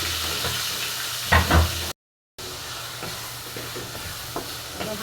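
Eggs, onion and tomatoes being stirred in a pan for a sarsiado-style dish, with a soft steady sizzle and scraping stir strokes, including a louder burst of stirring partway through, then a short dropout and quieter sizzling.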